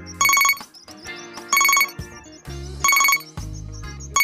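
A phone rings on the caller's end when dialling a kidnapper in an Odia bird-story cartoon: loud repeated electronic ringtone bursts in a regular pattern, with musical tones filling the gaps between rings.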